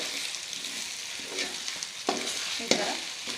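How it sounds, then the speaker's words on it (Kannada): Egg fries and sizzles in a pan as it is stirred for egg fried rice, a soft continuous crackle broken by a few sharper scrapes and clinks, close and fairly quiet with no voices. "ಈ ಥರ ಕೈ ಆಡಿಸ್ಕೊತಾ ಇರಬೇಕು. ಅದು ಬೇಯ್ತಾ ಇರುತ್ತೆ."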